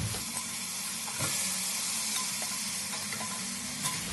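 Frozen squid stir-fries in a pan, giving a steady, close hiss and sizzle as its water cooks off, with occasional stirring scrapes and taps; no voices.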